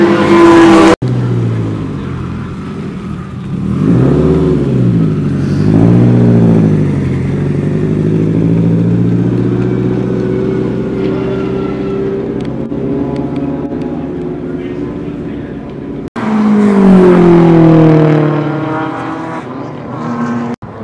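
A car on a racetrack session, heard loud and close from inside: the engine revs up and down through repeated gear changes, with brief drops between pulls.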